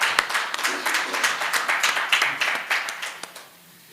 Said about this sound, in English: I really think we can give him another round of applause.